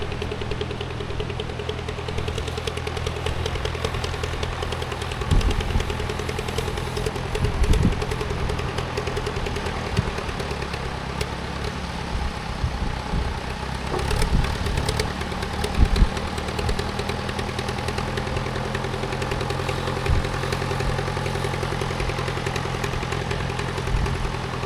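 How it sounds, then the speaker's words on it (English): A tractor engine drones steadily for a long stretch while pulling fishing boats up a beach in Argentina, with a loud, rumbling, knocking mechanical tone and occasional louder bursts. "a tractor is used to pull the boats back up onto the beach"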